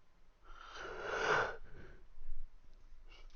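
A person gives one long, breathy yawn that swells and fades over about a second, followed by a softer exhale, during a tabletop Dungeons & Dragons game session.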